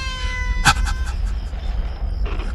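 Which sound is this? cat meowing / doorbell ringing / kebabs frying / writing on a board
cat meowing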